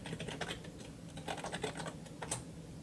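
Fingers tap out a short word on a computer keyboard, a quick irregular patter of light clicks in bursts, close and quiet over a faint hum.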